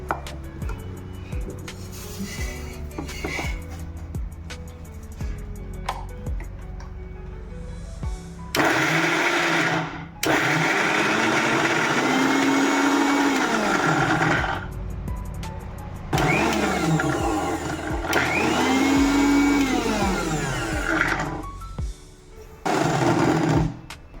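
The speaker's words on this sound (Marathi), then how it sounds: "आता आपण ह्याला मिक्सरला वाटून घेऊया जाडसर वाटायचे" A mixer grinder coarsely grinds a kharda chutney mixture in short bursts, each a loud, close motor whir that rises and falls with rattling from the jar, separated by pauses and handling clatter, with no talking.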